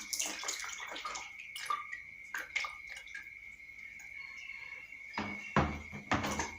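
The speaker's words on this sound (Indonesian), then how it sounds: "Tutup lapannya kembali dan mengisi airnya kembali hingga 25 cm." Water runs and splashes into a small leaking tank set up for a Torricelli experiment, with intermittent louder pours and trickles under a steady background hum, no voices.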